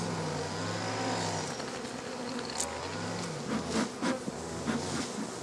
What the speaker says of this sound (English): they are not happy bees